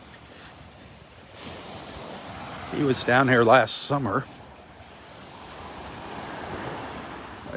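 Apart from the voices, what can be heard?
ocean waves on the beach in North Naples, Florida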